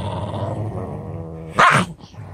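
A dog growls in a low, rumbling snarl at close range, then lets out a sharp, loud bark-like snap before going quiet.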